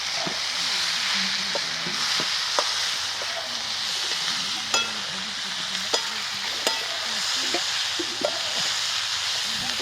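Boiled mahua fruit and soaked dal sauté in oil, sending up a continuous close sizzle punctuated by sharp taps and scrapes of a stirring spoon, with no talk.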